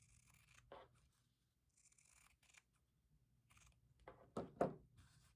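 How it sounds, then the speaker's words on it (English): Scissors trimming extra quilt fabric beside a seam: a few faint, quiet snips and clicks with pauses between, ending in two slightly louder close cuts, no talking. "I'm going to just cut off my extra fabric here"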